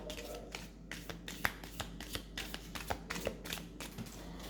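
A deck of cards is shuffled close by and quietly, a run of crisp riffles and snaps repeating in quick bursts.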